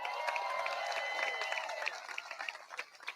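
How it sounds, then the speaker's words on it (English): A crowd at an outdoor statue unveiling in Columbia claps and cheers for two police chiefs and a sheriff, a steady wash of applause with scattered whoops that thins toward the end. "Can y'all clap it up for them?"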